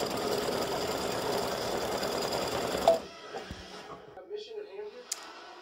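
An embroidery machine stitches a design on hooped fabric, a loud busy needle chatter close by that stops abruptly partway through, followed by quiet handling clicks and soft rustling.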